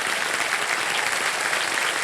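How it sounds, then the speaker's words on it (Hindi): Studio audience applause for a contestant on the quiz show Kaun Banega Crorepati, a steady, dense wash of many hands clapping that holds evenly throughout with no voices above it. "और तालियां बज जाएं श्रद्धा जी के लिए।"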